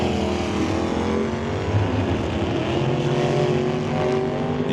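Drag racing dragster idling and rolling forward into the staging line at an NHRA Summit ET series race, its low rumbling engine steady and loud at moderate distance.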